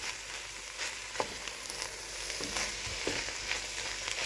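Eggs frying in a pan with pepper and salt, a steady hiss of sizzling oil and occasional spatula stirring scrapes, close by, with no talking.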